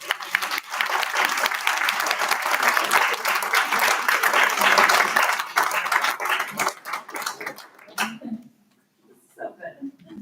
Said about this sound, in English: We'll do another round of applause just for a second.